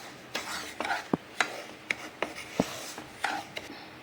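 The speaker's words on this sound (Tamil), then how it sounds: "ஒரு 5 நிமிஷத்துக்கு பார்த்திங்கன்னா நல்லா மீடியம் ஃப்ளேமில் வச்சு நம்ம வறுக்கணும்" A spoon scraping and stirring semolina (rava) as it roasts in ghee in a pan over a medium flame, a quiet irregular series of soft scrapes and taps, close up with no talking.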